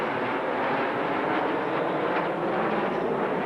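Frecce Tricolori jet aircraft fly at an open-air airshow, producing a continuous, loud broadband jet roar that holds steady without breaks.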